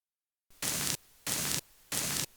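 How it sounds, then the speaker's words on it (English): A short white noise sample triggered three times on an MPC Live II sampler, each burst a loud, even hiss with a flat, abrupt start and stop, separated by brief quiet gaps. "That's a nice short noise sample now"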